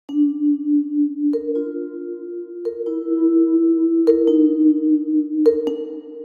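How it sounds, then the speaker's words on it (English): Sampled vibraphone from a vintage hip-hop production setup rings out in a sequence of sustained, bell-like mallet notes, each one blooming and hanging in a long, smooth reverb tail that overlaps the next, heard clean with no talking. "Let's take the vibraphone,"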